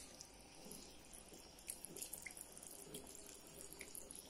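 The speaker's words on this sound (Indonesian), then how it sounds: "Nih, lalu aku tambahkan air." Water poured into a cornstarch mixture while cooking black pepper beef, a faint trickling, splashing stream with a few light drips, quiet and close, no voices.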